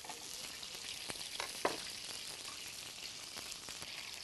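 Onion, garlic, chili and capsicum sizzle steadily in a hot wok for salt and pepper crispy fish, a close continuous frying hiss broken by occasional clinks and stirring.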